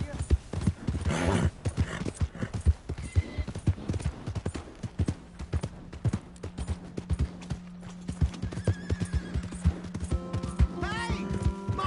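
Horse hooves clip-clopping in the video game Red Dead Redemption 2, a quick steady trotting rhythm close up, with a brief whinny and game music tones near the end.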